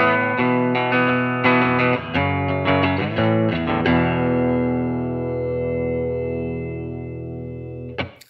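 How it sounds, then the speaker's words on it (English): A clean electric guitar through a modeler plays clear, ringing chords with reverb, several quick strums and then a long sustained chord letting ring out. "this is the clean part"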